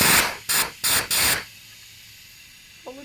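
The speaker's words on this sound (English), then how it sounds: "We're going to take some air pressure and we're going to pressurize the crankcase." Compressed air pressurizes an engine crankcase to blow grease and metal shavings out, four sharp loud hissing bursts in a row, each about a third of a second, then a quiet tail.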